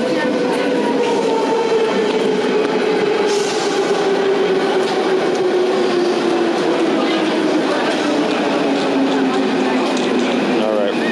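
A Paris metro train runs with a steady, loud rolling roar and a slowly falling motor whine. Voices are faintly present underneath.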